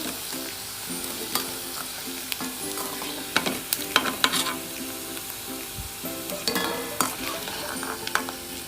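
Rice vadagam, a sun-dried leftover-rice snack, frying in hot oil with a steady close sizzle, broken by scattered scraping clicks of a ladle stirring and lifting the pieces.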